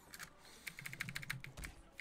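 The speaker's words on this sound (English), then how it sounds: "I can hear the slam on your keyboard." Fast, hard typing on a computer keyboard during an online game, a burst of sharp key clicks close but faint, alone without talk.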